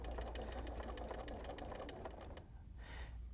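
Sewing machine stitching steadily during free motion quilting, a loud, close, rapid mechanical rattle running continuously, then briefly easing near the end.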